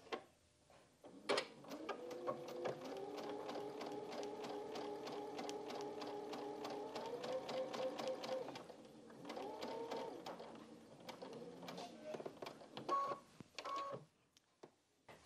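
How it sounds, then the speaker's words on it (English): Sewing machine stitching a quilt-as-you-go flying geese block along a marked diagonal line: a rapid mechanical whirr running steadily for several seconds, then slowing to short bursts and stopping, faint and close. "So from dot to dot, sewing exactly on the marked diagonal line."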